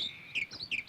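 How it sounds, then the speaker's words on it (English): A reed warbler sings in a marsh of reeds and sedges, giving a quick series of short, high chirping phrases, faint and somewhat distant over a quiet background. "Another small bird of the sedges is the reed warbler with its sweet, rich song."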